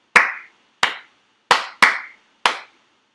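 Five crisp hand claps ring out in an uneven rhythmic pattern, close and loud, each sharply struck with a short decay and silence between them.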